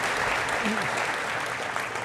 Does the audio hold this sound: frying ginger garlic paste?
no